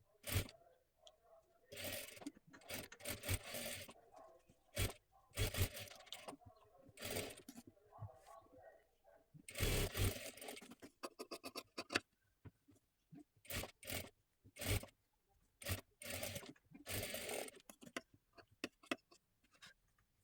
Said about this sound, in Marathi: आता इथे काय करा, एकदम कडेकडेला एक शिलाई देऊन घ्यायची आहे.